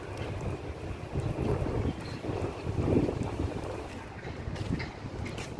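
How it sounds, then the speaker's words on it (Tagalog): Wind gusts across an open park in Palm Jumeirah, a steady blustery rush buffeting the microphone with rising and falling swells. "Presko ng hangin, may ihip yung hangin."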